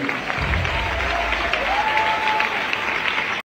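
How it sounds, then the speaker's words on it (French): A church congregation breaks into loud, dense applause with some cheering voices, a full sustained crowd roar that cuts off abruptly at the end. "Est-ce qu'on peut acclamer pour la parole de Dieu?"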